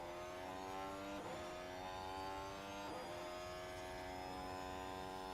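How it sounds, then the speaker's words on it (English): Formula 1 cars run installation laps at the Monaco Grand Prix, their engines a steady, loud drone with rising and falling pitch as cars pass, a continuous high-revving whine without any talking. "It looks like drivers are maybe doing installation laps"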